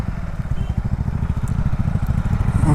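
KTM Duke 160 motorcycle engine held at full throttle, a close, steady pulsing thrum with rapid even firing beats that rise slightly in loudness toward the end.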